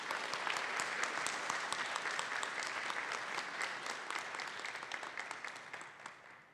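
Audience applause at a public forum on social security and health in Mexico City, sustained crisp clapping from a seated crowd that fades at the end.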